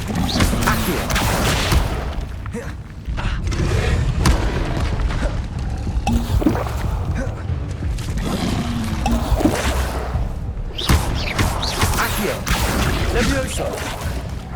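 Accio summoning spell cast in Hogwarts Legacy, a busy stretch of game effects with repeated whooshing bursts, thuds and crashing impacts over a low rumble, sustained and fairly loud throughout.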